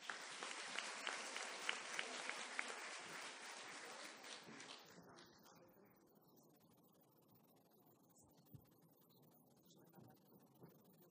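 Audience applause at an academic talk on intellectual property and innovation management, a dense burst of clapping that fades after about five seconds into quieter room noise.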